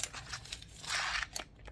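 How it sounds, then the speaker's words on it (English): A metal measuring tape handled close up in a quiet ASMR setting, giving a series of crisp clicks and scraping, ratcheting rustles, with a denser rasping burst midway and no talking. "I have 3 different measuring tapes."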